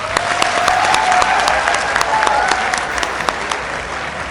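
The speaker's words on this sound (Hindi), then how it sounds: "आप लोगों के लिए तालियां एक दफ़ा" A crowd at a live corporate gala claps steadily for a few seconds, a dense, even wash of applause with occasional louder individual claps near the front.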